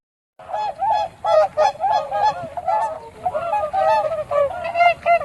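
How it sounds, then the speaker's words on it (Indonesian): A goose honks loudly and repeatedly in quick, nasal bursts. The calls come in an irregular, rapid series with no other sounds in between. "Angsa."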